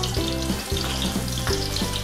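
Onions fry in a small amount of hot oil for a chicken in soy sauce dish, giving a dense, steady sizzle with crackling pops and occasional stirring scrapes, close and alone without talk.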